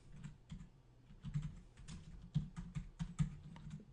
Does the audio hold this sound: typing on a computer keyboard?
yes